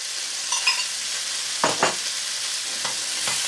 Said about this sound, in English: just stir after each thing that you put in, just give it a quick stir around